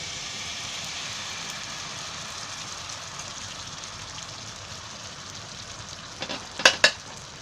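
Khaprole wheat batter poured into an oiled pan gives a steady, even sizzle with a broad hiss, ending in two sharp louder spits as the batter meets the hot oil. Nobody speaks.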